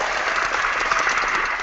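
Studio crew cheering and applauding on a live Mexican soccer talk show, a dense steady wash of clapping and voices close by with no pauses.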